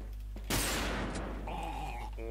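Automatic gunfire in the online shooter Wolfteam: a loud, close burst of rapid shots cracks out, followed by electronic game tones against a steady low hum.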